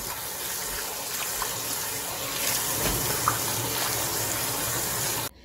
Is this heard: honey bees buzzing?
no